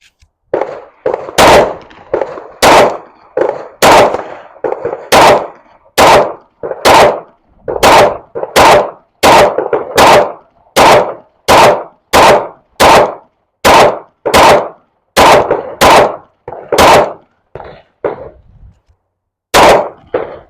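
Rapid pistol shots at an outdoor range, firing bulk ammunition with hard primers that give occasional light primer strikes; about two dozen sharp, loud reports in steady strings, with a brief pause before a final pair of shots.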